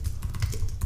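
Rapid keystrokes on a computer keyboard while a headline is typed into Photoshop, close and clear, a quick run of clicks filling the moment with no talk.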